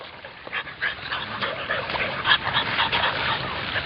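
An English Bulldog puppy named Rubi yips, barks and whimpers in a rapid, uneven series of high cries, close by and fairly loud, with noisy background.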